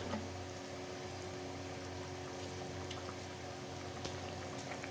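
Water bubbles steadily in a pot of beans and potatoes simmering on a home stove, a constant soft hiss and burble with occasional small pops.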